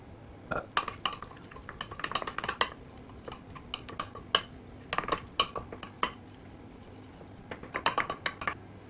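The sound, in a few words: stirring flour into melted butter in a pan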